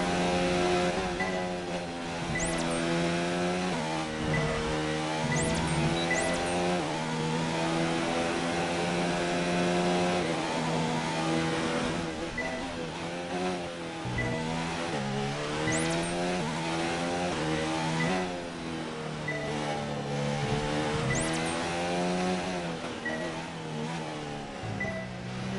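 F1 race car engine from the F1 2019 game, a loud, steady high-pitched whine rising and falling through gear changes and revs, with a few brief tire squeals, continuous and close with no talking.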